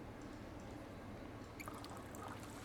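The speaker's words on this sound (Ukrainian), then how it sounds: "Так, наливаємо Пейн Ель." Pale ale pours from a tap in the video game Denizen, a soft steady trickle and splash over a constant low background hum, faint and close, with a few brief brighter drips near the end.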